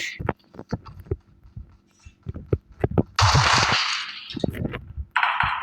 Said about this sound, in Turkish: Silah sesine doğru yine gidiyoruz.